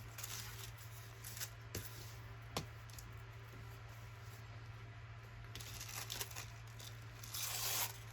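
Sticky craft paper being torn by hand while building a layered masterboard, a few short ripping and crinkling bursts close up, with a longer tear near the end over a steady low hum.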